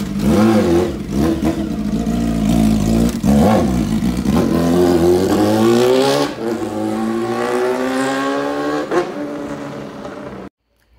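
Carbureted Honda Hornet motorcycle with a straight exhaust pipe revving hard nearby, the engine climbing and falling through several loud throttle blips before settling and cutting off abruptly.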